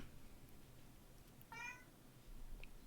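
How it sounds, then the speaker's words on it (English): A pet cat named Lucy gives one short, faint meow in a quiet room, heard alone against low background hiss. "Lucy says hello with a meow"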